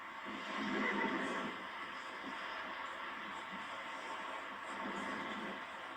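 A horse neighs in Red Dead Redemption 2, a drawn-out whinny near the start with softer snorts and game ambience trailing after, moderately loud and fairly close.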